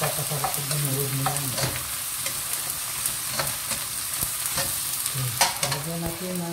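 Tomatoes sauté in a hot pan, a steady close sizzle with repeated scraping stirs and utensil clicks running through the whole stretch, no voices.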